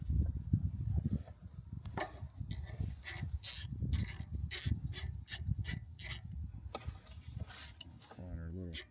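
A ratchet with a 12mm socket loosening the oil drain bolt on a BCS 853 walk-behind tractor, a series of quick clicking ratchet strokes in bursts, close, following some rubbing and handling noises.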